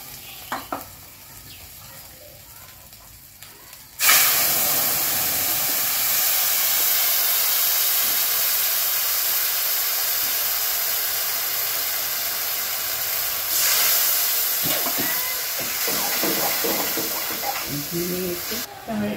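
Ground spices (chilli, cumin, coriander, turmeric) with sugar, salt and chopped ginger fry in a pan for a vegetarian fish curry. A quiet start gives way to a sudden loud, continuous hissing sizzle that holds steady to the end.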